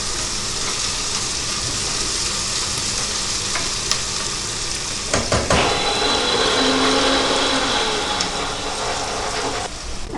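Onions sautéing in a pan for a chicken curry, with a constant bright sizzle and intermittent clattering stirs and scrapes, close by, with no talking.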